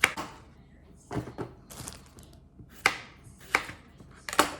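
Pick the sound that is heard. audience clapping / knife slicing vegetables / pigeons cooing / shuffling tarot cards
knife slicing vegetables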